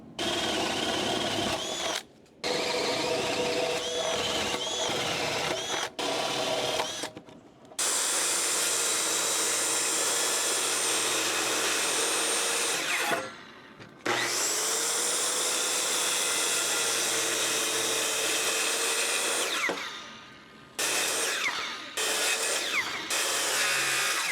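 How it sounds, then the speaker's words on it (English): Loud, steady power-tool whine runs for long stretches, broken by a few short pauses, as holes are drilled and wood is sawn close by for a chainsaw rack. "I will drill out a hole on each of these, and then I will simply cut to my hole"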